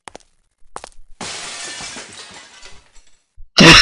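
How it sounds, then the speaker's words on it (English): Real glass breaking, recorded for the horror video game Bad Milk, gives a loud shattering crash with scattered tinkling debris, set between short quiet gaps and ending in another sharp burst. "the funny story behind this is that they actually broke glass"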